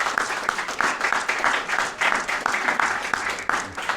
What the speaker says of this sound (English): let's give Chairman Fred another round of applause